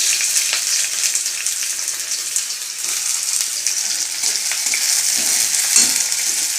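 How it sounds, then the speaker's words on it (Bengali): Onion and green chili frying in a pan, a steady bright sizzle with occasional stirring scrapes, close and continuous throughout. "পেঁয়াজ লঙ্কাটা ভেজে নিয়ে তার মাছটা ভাজবো"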